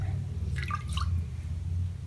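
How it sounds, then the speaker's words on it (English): Water drips and trickles from a soaked knitted piece gently squeezed by hand, soft close liquid patter over a low steady rumble, with no talking. "just gently squish out the water"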